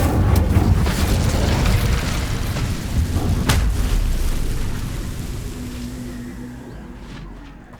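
Booming fiery burst of the Incendio fire spell in Hogwarts Legacy, a loud whoosh-and-boom at the start that rumbles on and slowly fades over several seconds, with no one talking.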